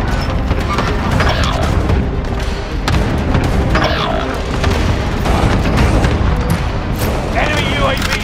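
Precision airstrike explosions in Call of Duty Warzone pound as a loud, continuous barrage of deep, rumbling booms, with a voice over the blasts.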